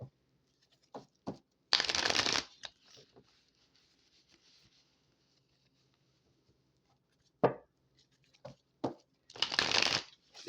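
Tarot cards riffled and split by hand: several loud, close bursts of crisp card shuffling separated by quiet gaps and small taps, with no talking.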